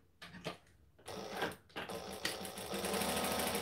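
Sewing machine stitching a quarter-inch seam on a gathered skirt, a few short stuttering starts and then a steady running whir that grows louder and continuous, close and without speech.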